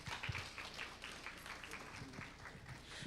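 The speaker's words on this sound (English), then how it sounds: "let's welcome him with a huge round of applause" A large audience at a tech hackathon event applauds steadily, dense clapping filling the room at moderate distance with no one speaking over it.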